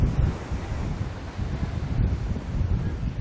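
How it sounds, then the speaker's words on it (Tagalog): Strong coastal wind buffets a microphone near the shore at Amaya 5 in Tanza, Cavite, during Super Typhoon Uwan, its loud steady roar blending with rough waves. No voices are heard. "mas malakas na ang alon at ang hangin dito sa bahaging ito ng Amaya 5 sa Tanza, Cavite"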